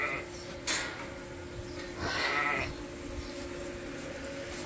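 Sheep in a barn let out a couple of bleats, one short call early on and a longer, wavering bleat a moment later, over quiet background hum and with no talk.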